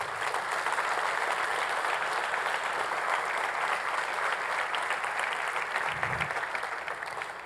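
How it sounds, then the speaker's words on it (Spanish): A church congregation applauds together during a sermon. The clapping is dense and sustained for the whole stretch, close and loud, then tapers slightly at the end. "Un aplauso al Señor."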